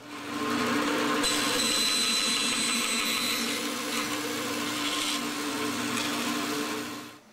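A power tool guided by a simple jig cuts a dovetail into the end of a wooden workpiece for an Arts and Crafts panel bed, roaring loud and steady for several seconds, its pitch shifting slightly as it bites, then stopping.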